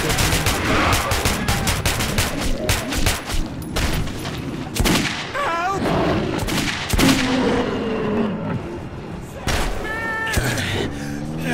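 Dense, rapid gunfire fills a chaotic video game battle, with bursts of shots layered over shouting voices and strange yowling, cat-like cries.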